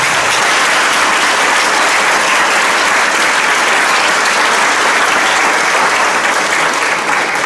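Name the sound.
applause for parents at concert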